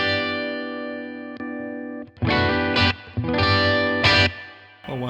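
Electric guitar on an HSS instrument played through its bridge humbucker with chorus and distortion effects: a sustained ringing chord, then several bright strummed bursts separated by brief gaps, loud and alone.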